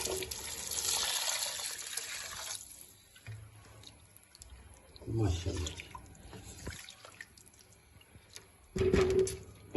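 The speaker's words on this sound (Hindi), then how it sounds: "अब इस मौके के ऊपर इसमें हमने पानी ऐड कर देना।" Water, about two litres, pours steadily into a pot of chicken vegetable soup with softened vegetables, a broad rushing splash for the first few seconds, then quieter liquid sounds while a voice speaks.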